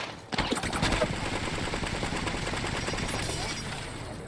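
Enemy gunfire in the battle royale game Apex Legends: a sustained, rapid automatic burst of close, loud shots that starts abruptly and rattles on without pause for several seconds.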